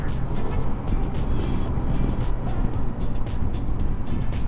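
A Honda Goldwing F6B motorcycle riding along a road, with a steady engine drone and rushing wind noise throughout, loud and close.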